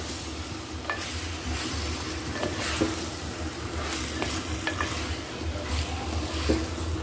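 Food sizzles and crackles steadily in a hot pot, with occasional scraping stirs and clinks of a utensil.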